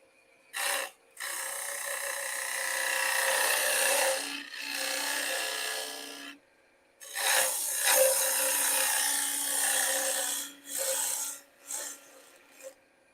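A lathe gouge cuts a tenon into spinning face-grain wood. It makes a sustained hissing, shearing rasp in two long passes broken by brief silences, plus a few short cuts near the end, all close and moderately loud.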